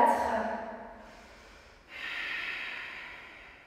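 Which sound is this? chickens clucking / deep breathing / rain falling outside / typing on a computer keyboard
deep breathing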